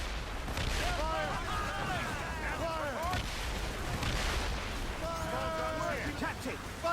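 Ship cannons fire in a naval battle in Assassin's Creed Rogue: repeated heavy booms over steady wind and sea noise, with crew voices shouting throughout and whistling shots flying between the blasts.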